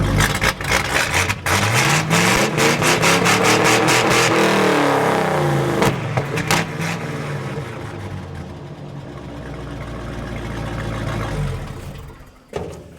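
A loud truck engine with straight-pipe stacks and a slight exhaust leak revs hard and rises in pitch with a raw, raspy exhaust note, then settles into a rumbling idle before a final pop.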